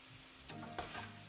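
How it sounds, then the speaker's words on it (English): Nigerian eggplant sauce with cooked meats frying in a pot, a steady soft sizzle with occasional stirring scrapes, close and fairly quiet. "So I'm still frying away."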